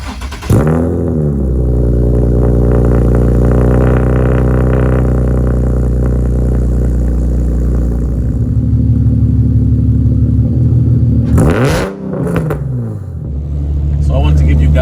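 A Nissan 370Z Z34 with OBX long tube headers and a straight-piped exhaust, loud and close, with a deep droning rumble that swells through revs. One sharp rev-up and drop comes near the end.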